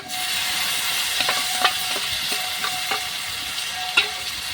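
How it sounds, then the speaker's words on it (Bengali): Fried potatoes sizzle in a pan with turmeric and chili paste as a utensil stirs them, giving a steady hiss broken by intermittent scraping clicks, close and fairly loud. "জিরে বাটা এবার মশলা দিয়ে আলু দিয়ে বেশ কিছুক্ষণ কষিয়ে নিতে হবে"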